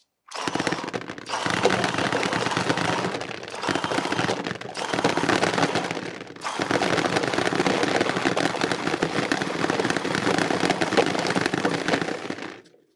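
An HK Army Sonic loader feeds a paintball marker firing rapidly at about ten balls per second, in three long, loud, dense bursts of rattling shots separated by brief pauses.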